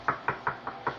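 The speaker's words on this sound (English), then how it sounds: "Nikki Bell's at the door." Five evenly spaced knocks on a door, crisp and close, rapping in a quick steady rhythm.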